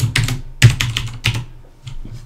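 Quick bursts of clicky keystrokes on a computer keyboard while a compile command is entered on a Raspberry Pi, close and crisp, thinning to a few isolated taps at the end.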